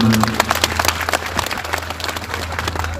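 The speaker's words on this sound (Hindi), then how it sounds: "ताली बजाओ एक बार जो" Audience clapping at a Rajasthani devotional music night, a dense scatter of hand claps that carries on steadily over a low, sustained hum.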